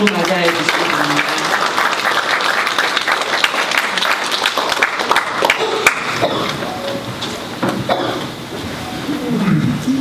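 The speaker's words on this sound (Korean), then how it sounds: "박수로 맞이해 주시기 바랍니다" A forum audience applauding to welcome a speaker to the podium, a dense, steady patter of clapping close around, with a voice speaking over the start and the applause tapering near the end.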